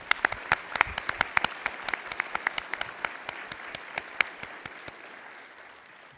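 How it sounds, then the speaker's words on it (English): Audience applause for teachers at the ISG Dammam graduation ceremony, a rapid sustained patter of many hands clapping that gradually thins and fades toward the end. "Teachers of ISG Dammam, here's a round of applause."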